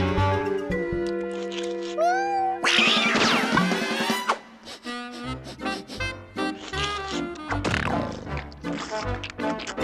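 A pet cat meows in a home, with a few distinct drawn-out calls rising over a busy background of other sounds and a voice.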